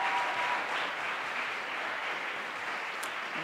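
A team claps and cheers at a junior women's 10m air rifle shooting final at a world championship, with sustained applause from a crowd at moderate distance.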